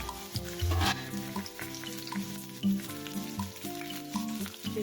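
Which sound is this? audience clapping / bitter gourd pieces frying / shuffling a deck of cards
bitter gourd pieces frying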